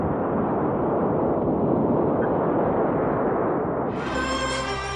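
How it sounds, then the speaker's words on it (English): The Soviet Union's first atomic bomb detonating, heard as a sustained deep roaring rumble that fills the low end continuously and stays loud throughout, shifting near the end into a band-limited archival recording with tonal hum. "The Soviets detonated their first atom bomb."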